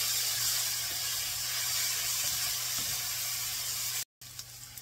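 A tablespoon of minced garlic sizzles in a pan while the sauce for a red and alfredo pasta casserole is built, giving a steady, close frying hiss that cuts out briefly near the end.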